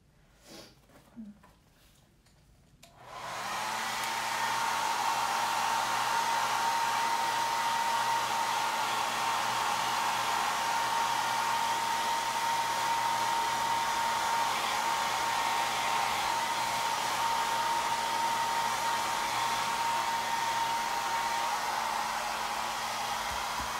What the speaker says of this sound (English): I'm going to hit it with a blow dryer, so plug your ears.